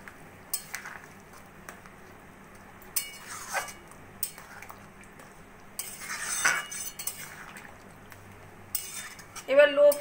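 A spoon or spatula stirring fried paneer into bubbling curry in a metal pan, with intermittent scrapes and clinks against the pan between quiet stretches, close and moderately loud.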